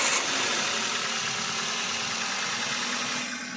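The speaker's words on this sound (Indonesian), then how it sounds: "Kita hidupkan mesin." A car engine idles steadily during a tune-up, after air filter work and before throttle body cleaning, a constant close rumble with a slight rattling vibration and no voices.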